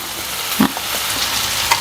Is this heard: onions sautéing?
yes